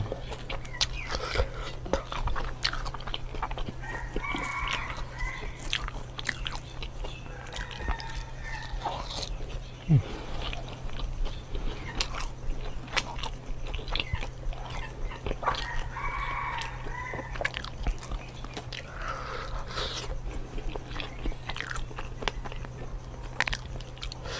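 Close, steady chewing and biting of fried fish topped with three-flavour chili sauce, a continuous moist crunching that runs throughout with a sharp bite near the middle and no talk.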